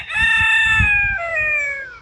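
A farm rooster crows loudly and close by in one long, drawn-out call that sags in pitch near the end, with faint low rumbling noise beneath.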